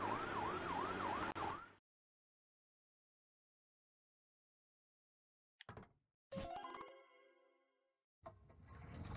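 A fire engine siren from a children's vehicle cartoon wails in quick rising and falling cycles for under two seconds, followed by silence and then a few clicks and chiming effects.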